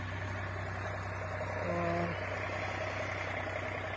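A new Solis Yanmar tractor engine drones steadily while pulling a 3MB reversible plow deep through a field, a constant low rumble with a brief faint tonal beep partway through.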